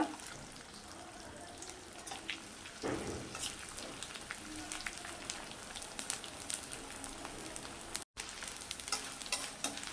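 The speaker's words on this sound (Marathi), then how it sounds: "तूप गरम झालंय आता थोडा थोडा करून मी डिंक तळून घेते" Edible gum (dink) frying in hot ghee in a kadhai, a steady close crackle and hiss with scattered sharp pops, continuing without speech.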